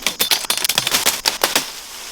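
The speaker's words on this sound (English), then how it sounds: "Gotta cut briars, cut big thickets like this." A cheap Walmart machete hacks through briars and thick brush outdoors, giving a rapid series of sharp, close swishing cuts and snaps with crackling vegetation between strikes.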